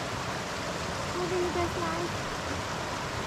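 Steady broadband rush of a clear river flowing beside a fell path in the Lake District fills the clip evenly, a continuous outdoor wash with a faint tonal sound briefly rising over it.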